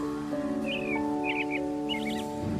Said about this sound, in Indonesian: Pagi-pagi memang seneng banget dengar kicauan burung